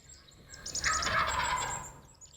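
A rapid, rattling gobble rings out from wild turkeys on the roost at some distance in Michigan, a bubbling burst of calls lasting a couple of seconds over quiet outdoor air.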